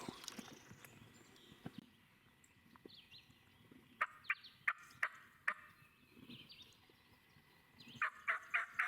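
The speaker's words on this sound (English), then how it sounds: "they either both triple gobble, like back at each other" Bursts of wild turkey gobbling ring out from a distance, a rattling triple call repeating several times, with soft footsteps and rustling in between.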